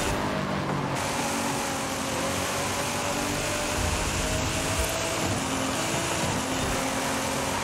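Revving car engine in the Forza Horizon 5 racing game, a Nissan GT-R, dropping through gears in a loud continuous roar with surging pitch changes, steady and close throughout with no talk.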